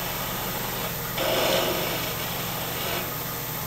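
A parting tool cuts into a spinning madrone wood hollow form on a lathe, forming a small cone for a drill bit; a steady motor hum swells into a broader rasping cut for about two seconds, then eases back.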